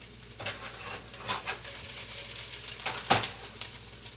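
Onions fry in hot oil for a stir fry, giving a soft steady sizzle with faint clicks and scrapes of stirring in a pan, fairly quiet and close.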